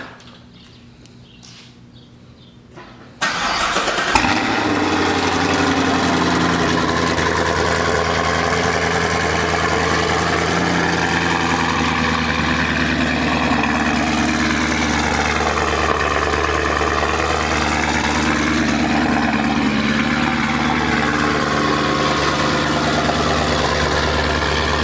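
Chevrolet Camaro SS V8 (6th gen) with Kooks longtube headers cold-starting after quiet, then a loud, steady high idle with deep rumble that holds for over twenty seconds, no talking.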